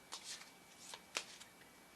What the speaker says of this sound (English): I think I'm going to pull the Soul's Journey lesson cards.